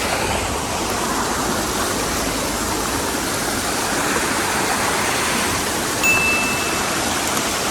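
Surathali Ella waterfall pours in a steady, loud broadband rush of falling and splashing water, close and continuous without pause, with no voices over it.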